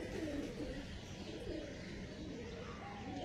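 Tippler pigeons cooing nearby, low soft rolling coos rising and falling over a steady murmur of background noise.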